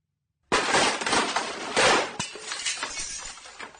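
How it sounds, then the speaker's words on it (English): A sudden loud crash with a bright, splintering spray of noise, like a window shattering, followed by trailing debris and scattered tinkling fragments; no speech. "I heard the sound of splintering glass in the distance, as if a window had shattered"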